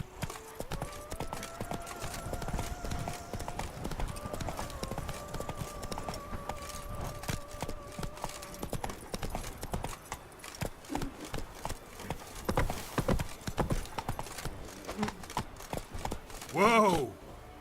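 Roach, the horse in The Witcher, gallops with rhythmic clip-clopping hooves under tonal game music and scattered voices, ending in a louder burst of noise.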